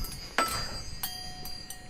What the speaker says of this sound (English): I always love it when my wind chimes untangle themselves.